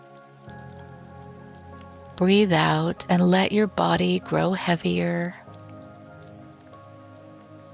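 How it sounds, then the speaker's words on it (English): Steady rain falls on surfaces as a soft, even wash throughout, with a calm voice speaking slowly over the middle of it. "The kind of rain that falls steadily through evening streets and turns the whole world quiet."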